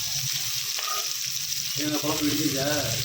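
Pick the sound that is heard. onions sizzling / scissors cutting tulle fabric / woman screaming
onions sizzling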